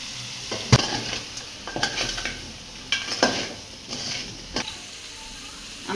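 Potatoes are stirred into a crab curry frying in a pan, with a soft continuous sizzle and sharp scrapes and knocks of a spoon against the pan at irregular intervals, fairly close.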